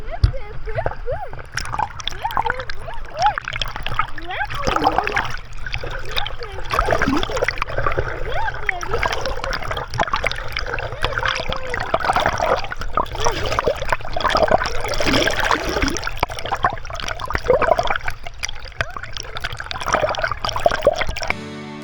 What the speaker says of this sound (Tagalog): Ayun, may lakas ng agos, oh.